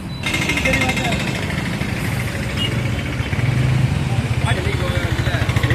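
A motorcycle engine runs steadily nearby with a rough, pulsing idle that grows a bit louder partway through, while people talk over it.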